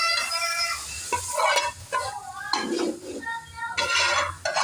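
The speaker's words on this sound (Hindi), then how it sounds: "ये मैं थोड़ा सा तड़का बनाया है," A garlic tadka sizzles in a hot pan while a spoon stirs and clinks against the metal, with bursts of frying hiss rising and falling close by.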